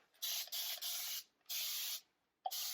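A spray bottle hisses out four bursts of fine mist onto a wall, the first three close together and the last one short, each separated by near silence.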